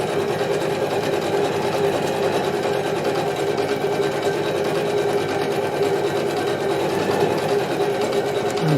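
A Janome embroidery machine stitches a Christmas design, its steady mechanical whir and rapid needle chatter running loud and unbroken from start to finish with no talk.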